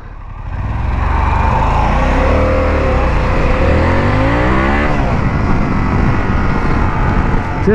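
A Harley-Davidson motorcycle engine with a fast motor revs up and accelerates, its loud, close exhaust roar rising in pitch and then holding a strong, sustained drone.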